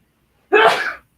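A single loud, close sneeze bursts out suddenly and fades within half a second, with quiet before and after.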